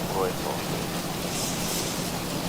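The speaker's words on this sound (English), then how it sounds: "I think we're getting hit with a little bit of rain." Rain hitting a Boeing 737 in an X-Plane flight simulator cockpit, a soft, steady hiss of rainfall with no distinct drops, fairly quiet and continuous.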